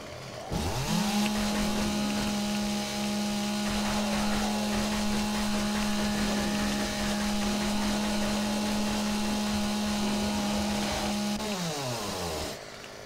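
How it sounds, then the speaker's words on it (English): Chainsaw in the zombie survival game 7 Days to Die revs up and runs at a steady, loud, buzzing drone for over ten seconds, then winds down at the end, with no talking. "I say we get him with a chainsaw."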